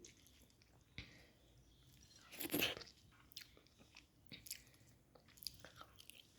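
Someone chewing food while eating a home-cooked meal seasoned with raw mustard oil, soft crunching and biting sounds close to the mic, with a louder burst of crunching in the middle.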